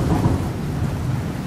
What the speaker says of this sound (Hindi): बाहर जोर से बारिश और तूफान आने लगता है।